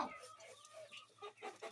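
Hens clucking softly in the coop where they lay eggs, a few short, faint clucks and murmurs scattered irregularly across a brief, quiet moment.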